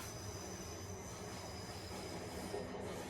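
A train pulls into a station in the UK with a steady, loud rumble of wheels on rails and a brief metallic squeal near the end, with no voices over it.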